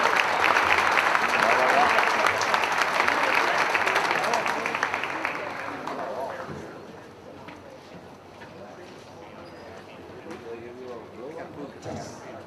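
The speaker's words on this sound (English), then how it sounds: "One more round of applause for the honor guard." Crowd applause for the honor guard in a high school gym before a girls' varsity basketball game, loud and sustained at first, then tapering off into scattered clapping and room murmur.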